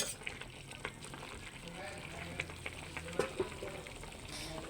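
Koi fish simmering in a pot, a quiet continuous bubbling and sizzling with faint stirring clicks throughout.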